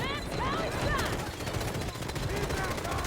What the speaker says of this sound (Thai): ปืนอะไรยิงวะล่ะ